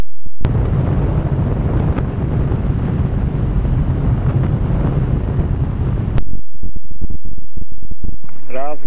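A light aircraft takes off from runway 36 on a flight around São Paulo: a loud, steady engine-and-wind roar fills the cabin for about six seconds, then drops away to quieter clicks and a brief voice at the end.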